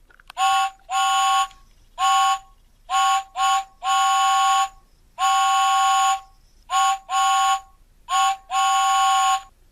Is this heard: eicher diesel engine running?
no